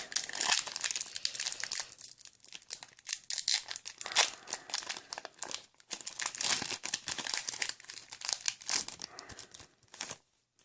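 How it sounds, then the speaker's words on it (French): Close crinkling and tearing of a taped plastic foil Pokémon XY trading card booster pack wrapper, rustling in irregular bursts with brief pauses, ending with a final crinkle. "Il y a encore du scotch sur le booster."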